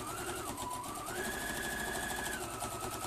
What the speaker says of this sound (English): and back stitch, and then all the way along again, sewing nice and close to the edge